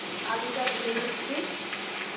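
Chopped potato pieces fry in a pan for Mughlai paratha, giving a steady, close sizzle and hiss with faint stirring and a few soft tonal sounds through it.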